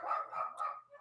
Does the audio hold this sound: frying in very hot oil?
no